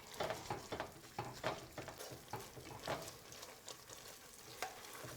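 Tomato paste frying in olive oil in a pan as a spoon stirs it often, soft sizzling broken by quiet rhythmic scrapes and taps of the spoon, faint and close, with no voices.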